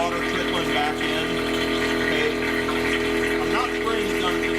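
A low-pressure water pump hums steadily while priming, with water trickling and splashing back into the tank, a continuous loud drone with no break.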